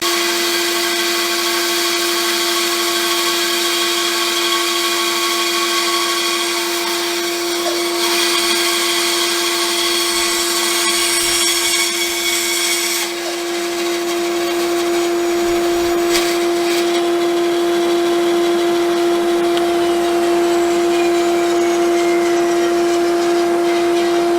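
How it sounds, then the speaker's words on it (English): A bandsaw runs steadily, cutting a wooden circle on a circle-cutting jig for a wheelbarrow planter, giving a loud constant motor whine with a strong steady hum and shifting cutting noise throughout. "I'll take it out onto the bandsaw on the circle cutting jig and cut a circle"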